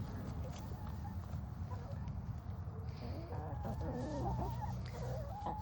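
Rhode Island Red hens forage in a backyard flock on grass and pine straw, letting out soft, scattered clucks over a constant outdoor background, with light scratching and pecking sounds close by.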